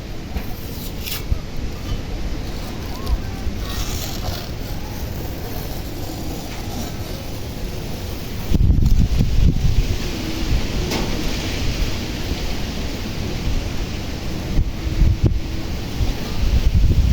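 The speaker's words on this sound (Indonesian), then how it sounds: "Angin kencang sahabat." Strong wind roars and buffets the microphone in an arabica coffee garden, a continuous rushing noise with rustling foliage that grows harder and gustier partway through.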